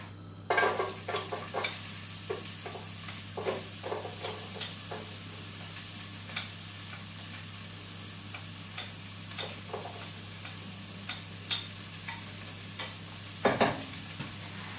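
Onions fry in a pan with curry paste, a faint steady sizzle under a low hum, broken by scattered soft clicks and scrapes from stirring and a short louder clatter near the end.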